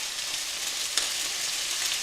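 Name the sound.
pork browning and sizzling in a pan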